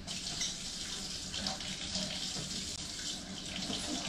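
A kitchen tap runs a steady, close stream of water into a pitcher for brown sugar pineapple lemonade, an even rushing flow with no talking over it.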